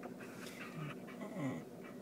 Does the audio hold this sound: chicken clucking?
no